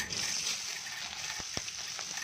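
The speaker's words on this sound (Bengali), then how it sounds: "তেল ভালো করে গরম হয়ে গেছে, এবার আমরা এর মধ্যে মাছগুলো ছেড়ে দেবো।" Hilsa fish frying in hot mustard oil in a pan produces a soft, steady sizzle with a couple of faint knocks, fairly quiet and without voices.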